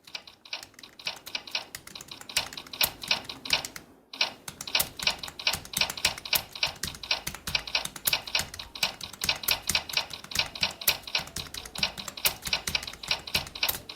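Fast typing practice on a computer keyboard, a steady rapid stream of crisp key clicks up close with one brief pause near the start, no talking.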